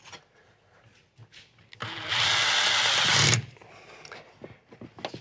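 Power drill drives a self-piercing screw through sheet metal while mounting an upper cabinet, a loud steady whirring burst of about a second and a half between quieter handling clatter.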